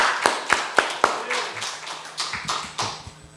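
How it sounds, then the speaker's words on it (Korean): A church congregation at a Sunday morning service claps in welcome, starting with a few crisp, evenly timed claps and loosening into softer, irregular clapping from several people, with no talking. "박수로 환영합시다."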